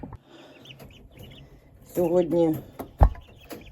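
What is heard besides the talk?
turkey poults clucking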